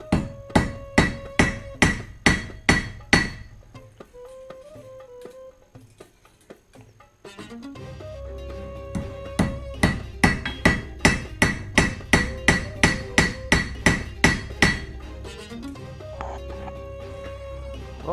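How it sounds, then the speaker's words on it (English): A 3-pound hammer strikes metal being shaped for a crown: a steady series of sharp, ringing blows, then a few seconds of quieter pause, then another long rhythmic run of close, loud strikes. "with the 3-pound hammer you can just let the weight of the tool, all I'm doing is raising the tool and lowering it"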